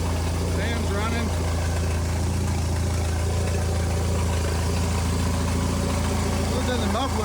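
A Jeep engine with no muffler idles steadily and loudly, giving an unbroken rough exhaust rumble from start to finish.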